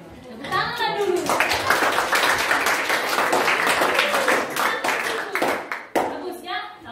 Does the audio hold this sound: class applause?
yes